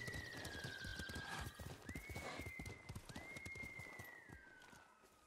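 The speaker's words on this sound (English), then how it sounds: "Legit thought that was my horse under my feet when I called it." In the video game Ghost of Tsushima, a horse's hooves clip-clop in a steady, fast rhythm while a high whinny rises and falls over them, loud at first and easing slightly toward the end.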